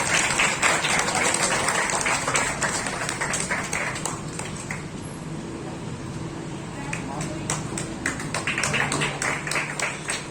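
At a school Independence Day celebration, an audience gives sustained applause for a prize winner, dense clapping that eases in the middle and swells again, with voices running beneath it.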